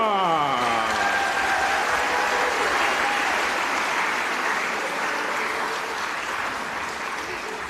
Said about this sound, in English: another round of applause for our Maie Sitete Siva